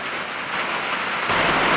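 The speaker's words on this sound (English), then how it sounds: "the ambient noise of this rain on this metal roof is really loud" Rain drums steadily on a metal roof, a dense continuous patter that grows louder toward the end, with no voices.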